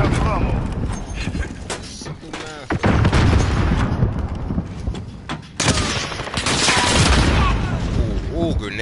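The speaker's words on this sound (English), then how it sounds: "Ooh, grenaded him." Grenade explosion in the Modern Warfare video game during a Domination match, bursting amid ongoing gunfire and game noise with a player talking over it.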